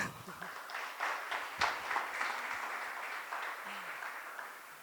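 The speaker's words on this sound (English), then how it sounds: "I think he deserves an applause" Applause from the audience at a book awards ceremony, a steady wash of many hands clapping at moderate distance, fairly soft and sustained.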